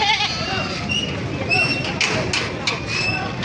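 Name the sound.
goat (buck) bleating at a livestock market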